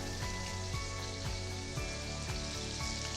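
Grainy stone-ground mustard stirred into a creme fraiche sauce in a pan for salmon, a constant close sizzle with a rhythmic swirl of the spoon every half second or so.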